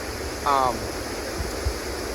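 The Devil's Kettle waterfall on the Superior Hiking Trail gives a steady, even rushing roar of falling water throughout, with a brief faint tone rising over it early on.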